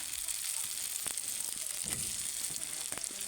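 Chopped tomatoes sizzle steadily in a hot pan, a continuous faint hiss with a few soft stirring clicks, no voices.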